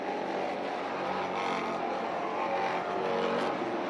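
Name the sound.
stock cars racing through a corner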